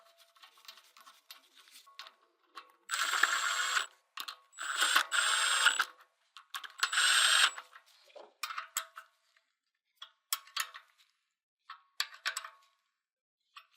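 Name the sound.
securing screws of a pulley holding fixture to engine block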